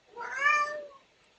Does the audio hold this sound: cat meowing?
yes